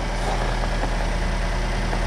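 An SUV engine idles steadily close by in winter, a low, even rumble with no talking and no change in pitch.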